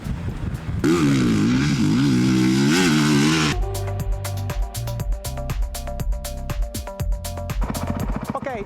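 A Honda CRF450 motorcycle engine runs close by, a steady throaty drone that shifts into a busier, pulsing rumble partway through, loud throughout.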